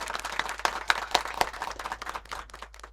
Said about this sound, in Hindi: जिनका जोरदार तालियों से स्वागत किया जाए